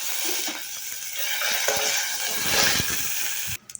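Garlic cloves, cumin seeds, dried red chilies and curry leaves sizzle and crackle steadily in hot oil for a tomato chutney, close and loud, with stirring scrapes throughout before the sizzle cuts off abruptly near the end.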